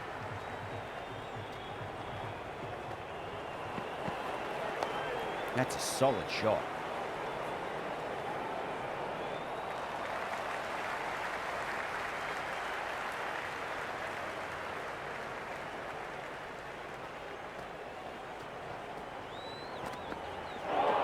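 Steady roar of a cricket video game crowd at an IPL match between Lucknow Super Giants and Chennai Super Kings, cheering continuously beneath a commentator's talk, with a brief louder swell near the start.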